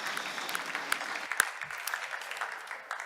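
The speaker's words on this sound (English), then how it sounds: "So we can have another round of applause because we have hereby passed the text." Steady applause from an assembly audience after a text passes by vote, a continuous patter of many hands clapping at moderate volume with no talk over it.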